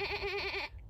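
A single sheep bleats up close in a field at sunrise, giving one wavering, nasal call about two-thirds of a second long that then cuts off.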